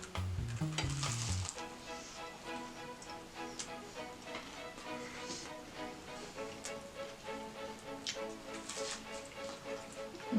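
A knockoff Crunchwrap Supreme fries in a pan with a steady, faint crackling sizzle, while light background music plays throughout and no one speaks.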